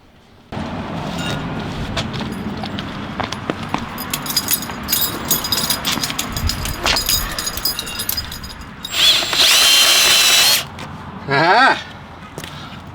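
A power drill bores a hole in a piano-playing robot build, a loud burst of whining drilling with a rising pitch sweep near the end, set against workshop clatter and background noise.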